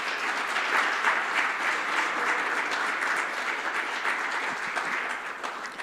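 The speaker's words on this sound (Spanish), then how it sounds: "démosle un fuerte aplauso al Señor" A church congregation gives a loud round of applause to the Lord, many hands clapping steadily in a large room for several seconds before tapering slightly at the end.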